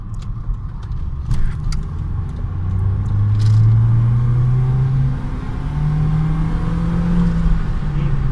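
Mercedes W202 C-Class accelerating hard at full throttle, engine drone climbing steadily in pitch through a gear, loud and close from inside the cabin with a faint jingle of keys.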